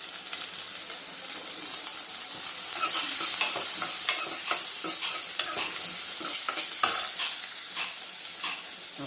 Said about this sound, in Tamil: சின்ன வெங்காயம் போட்டு அதையும் வதக்கணும்.